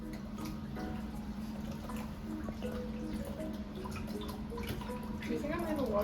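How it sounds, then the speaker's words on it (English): Gentle splashing and dripping of water during a corgi puppy's bath, a soft, steady trickle with a faint background hum and scattered small splashes, fairly quiet and close. "We gave him his first bath, which he didn't really like."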